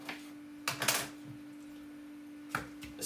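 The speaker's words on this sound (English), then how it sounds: "cut up half a cucumber" Knife slicing through half a cucumber on a cutting board, a few separate crisp chops, one cluster near the start and a couple more later, close and fairly quiet over a steady background hum.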